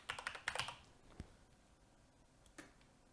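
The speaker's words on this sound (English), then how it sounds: "I'm going to select limited experience and type my name in." Close, quiet keystrokes on a computer keyboard entering a name: a quick burst of clicks, then a single later tap, with no speech.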